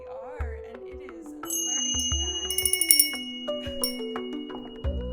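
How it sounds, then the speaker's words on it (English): A small hand bell rings several times in quick succession over a soft tonal music bed, its bright metallic strikes clustering near the middle of the passage before fading. "Love my little bell."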